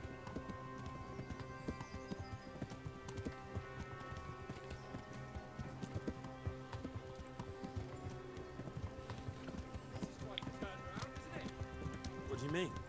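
A horse's hooves clip-clop at a steady walking rhythm in the medieval game Kingdom Come: Deliverance, and a brief whinny comes near the end. Voices talk over the hoofbeats.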